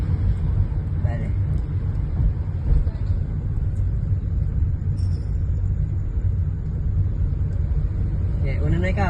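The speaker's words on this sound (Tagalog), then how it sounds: "Mayroon sasakyan sa likod" A motor vehicle, likely a motorbike, rumbles on the road behind, a steady low drone that holds for the whole stretch at moderate distance with no clear pass-by peak.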